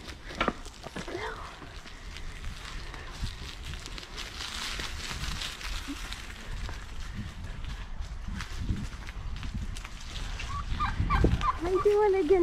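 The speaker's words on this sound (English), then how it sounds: "Again, chickies." Chickens clucking in a front yard, with short scattered calls over shuffling footsteps and rustling and occasional nearby voices, the calls growing louder toward the end.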